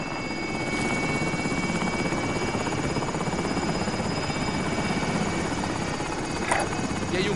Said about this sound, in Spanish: Helicóptero en camino.